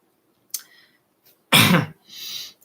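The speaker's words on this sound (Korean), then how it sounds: "제가 지금 계속 기침을 하는 것은 그 질병 때문이 아니고요." A short cough, then a louder, harsher cough, followed by a softer throat-clearing rasp, close by with silence between them.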